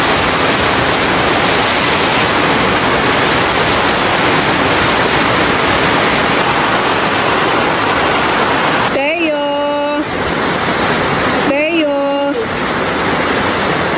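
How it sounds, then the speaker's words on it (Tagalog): Heavy rain pours in a dense, loud, steady roar throughout, with two brief bursts of a person talking near the end. "Lakas ng ulan na eh."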